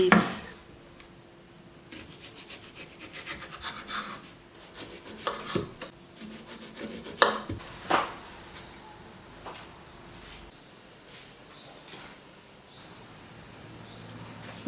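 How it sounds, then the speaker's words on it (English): Pork ribs being cut with a knife on a board for braised ribs, giving a scatter of sharp irregular chops and scraping rubs, some loud and close, with quieter rustling between. "Cut the ribs."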